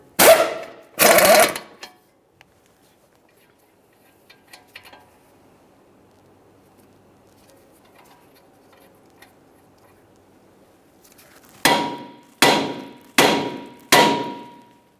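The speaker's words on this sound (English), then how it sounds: "we'll tap on this area lightly, causing vibration to help separate it" Hammer tapping on the steering knuckle of a 2011-2021 Jeep Grand Cherokee to free the upper ball joint: two sharp metallic strikes, a quiet pause, then four evenly spaced ringing taps close by.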